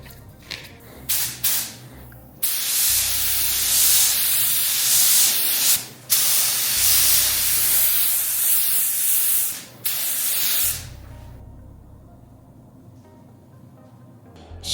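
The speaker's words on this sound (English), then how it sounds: "I will put the paint in the gun" A paint spray gun hisses in long, steady bursts as it coats Brembo brake calipers yellow for a custom Ducati Diavel V4, with short pauses between passes before the spraying stops and the room falls quiet.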